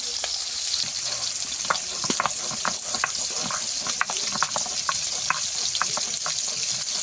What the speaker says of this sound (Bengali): মাছ ভাজা হোক